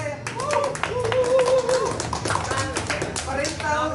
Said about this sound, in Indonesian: Jadi tepuk tangan dulu untuk Mapiara.